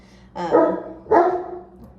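A dog barks twice in quick succession, close and fairly loud, excitedly waiting for its breakfast outdoors near a garden.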